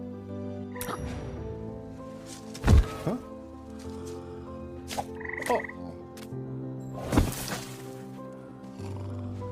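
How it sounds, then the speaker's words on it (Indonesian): Frog croaks sound out in a Dora adventure film about a lost city of gold, several loud throaty calls over a steady musical score, with bursts at intervals. "mereka mempunyai ide untuk menjatuhkan katak, yang mana katak tersebut adalah katak beracun"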